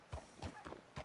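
Hooves of a Tennessee Walker horse in the Western video game Red Dead Redemption, four soft, low thuds in an uneven walking clip-clop, fairly faint and close.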